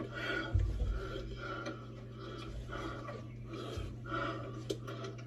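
Heavy, rasping breathing in a garage beside a rusty, rough car, steady and fairly quiet over a constant low hum, with a couple of louder breaths and no talking.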